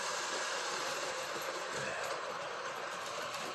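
Model train rolling steadily down the back hill of a home layout, kept at low speed, a continuous faint rolling rumble and hiss with soft clicks, heard alone without any talk.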